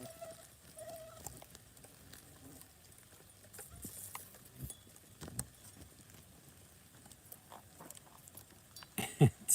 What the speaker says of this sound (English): It's still raining pretty good.